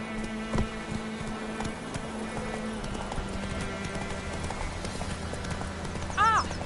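Roach, the horse in The Witcher 3 game, gallops with steady clip-clopping hooves under a constant ambient game soundscape, with a few louder thumps and a short whinny near the end.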